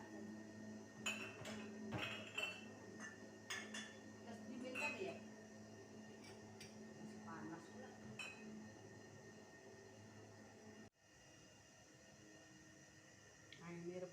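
A pot of boiled herbal cough and cold remedy is lifted off the stove, metal clanks and knocks, scraping and a brief rattle of pot and lid, quiet and close in a kitchen, with a person talking throughout.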